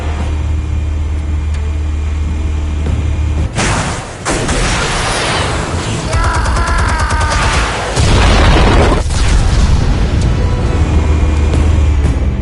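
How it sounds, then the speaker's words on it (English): Explosives detonate in Batman: The Telltale Series with a loud, sustained blast that erupts after a rumbling lead-in, followed by crackling debris and a second heavy surge of booming noise. "Explosives armed. Fire when ready."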